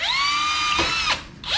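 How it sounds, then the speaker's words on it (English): A power drill whines steadily at close range while boring holes in a car's radiator support, its pitch holding level, then cutting out briefly and spinning up again near the end. "Now hopefully we can drill these without punching a hole in the radiator."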